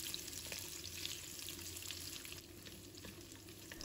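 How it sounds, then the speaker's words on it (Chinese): Pork ribs sear in a hot pan, giving a steady, close sizzle and crackle of frying that holds evenly for a few seconds, with no talking. "所以我们把排骨煎制一下，把它煎至2面金黄"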